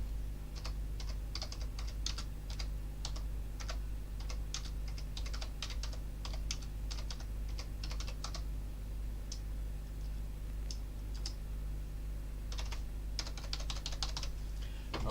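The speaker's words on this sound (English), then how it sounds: "I'm just going to type it." Fingers type on a computer keyboard in steady bursts of close key clicks over a constant low hum, with brief pauses between words and no talking.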